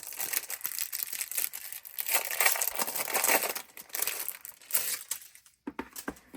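Pages of a 20-page sticker book are flipped through, making crisp crinkling and rustling close by in uneven bursts, with short pauses between turns.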